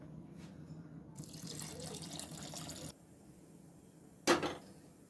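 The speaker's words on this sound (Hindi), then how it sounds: "इसमें हम चाशनी डालेंगे।" Sugar syrup is poured into halwa in a pan, giving a soft liquid pour and sizzle for a couple of seconds, followed by a brief sharp splash near the end. No one speaks.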